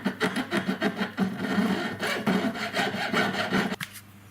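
A 1.2mm cross-cut tapered burr grinds into metal stone settings on huggie earrings, giving a close, steady run of short rasping cuts that pulse in quick strokes and stop abruptly near the end.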